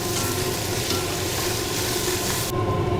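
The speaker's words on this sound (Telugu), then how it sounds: "ఇప్పుడు ఆయిల్ వేసుకొని ఉల్లిపాయ పచ్చిమిరపకాయలు వేసుకున్నాక ఇప్పుడు కొంచెం సాల్ట్ వేసుకోవాలి బిన్న వేగడానికి" Onions and green chillies sizzle in hot oil with salt in a pan, a continuous close, bright frying hiss that holds steady with no voices present.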